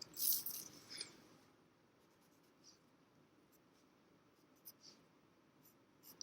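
Charcoal pencil strokes scratch softly over paper as edges are cleaned up on a form study, with a few quick, faint marks followed by lighter intermittent scratching.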